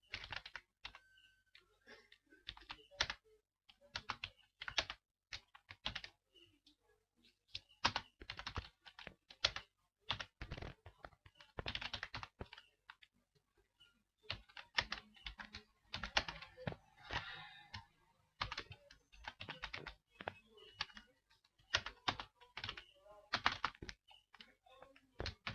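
Code is typed on a computer keyboard in irregular bursts of crisp, close clicking keystrokes, broken by short pauses, with no voices.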